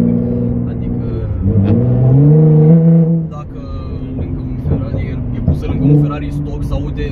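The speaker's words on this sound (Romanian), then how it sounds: "am rămas uimit de cum poate să se audă mașina asta" A 700HP Nissan GT-R engine revs up in a deep rising roar, holds, then drops back to a lower rumble before another short rev, loud and close with voices talking over it.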